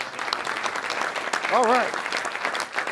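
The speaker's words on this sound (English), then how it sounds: "give yourselves a hand, big hand" Conference audience at a sales event applauds, a steady spread of clapping throughout while someone speaks briefly over it near the middle.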